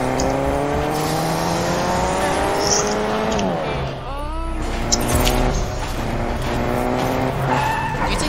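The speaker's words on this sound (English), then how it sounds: "I hear the Lambo." Lamborghini engine in Fortnite, a revving car note that rises and falls with tire squeal and skidding, heard under steady game noise while players talk over it.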